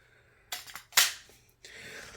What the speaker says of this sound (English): The mag drops nice and clear though.